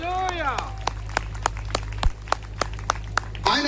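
Church congregation clapping while praising: a run of sharp, evenly spaced claps with a steady low hum beneath, preceded by a brief swooping tone.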